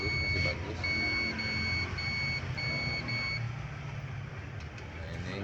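Beeps from a multimeter on continuity setting while testing the fuse of a Philips clothes iron, a steady high tone sounding in repeated pulses, four or five in a row, over a low background hum.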